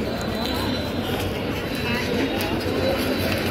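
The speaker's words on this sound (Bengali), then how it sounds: "একটা ডাইরেক্ট ট্রেন গেল" A direct train roars past near a station overbridge, a loud, continuous low rumble with broadband rattle filling the scene, steady throughout with a faint murmur of voices beneath.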